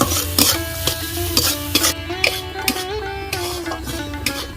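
Chopped onion and green chilli are stirred and fried in a pan with salt and turmeric, producing a steady sizzle broken by repeated scraping and clinking strokes of a spatula against the pan. No one speaks.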